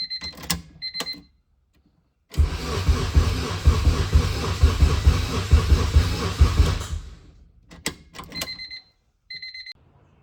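A Honda K20/K24 engine on a DIY charge harness cranks over, catches and runs for several seconds with a rough, rapid rhythmic chug, flanked by chimes and beeps before and after.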